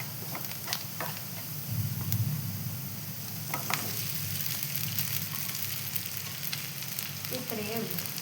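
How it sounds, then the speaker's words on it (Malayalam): Onions with chillies and curry leaves sizzle and fry in a pan, making a steady close crackle with a few louder bursts as ingredients drop in. No one speaks. "ഇതാ ഉള്ളി ചോന്ന് വരുന്നുണ്ട്. ഇനി മുളകും കറിവേപ്പിലയും ഇട്ട് കൊടുക്കും."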